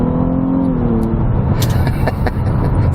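Engine of a 2017 Nissan Maxima pulling hard in sport mode, a steady loud drone with rising engine tones early on, close and continuous without speech.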